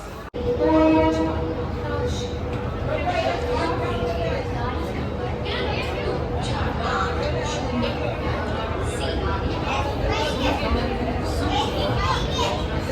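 A train horn blasts near the start, then a loud, steady rumble of rolling rail cars as the train departs, with voices chattering in the background.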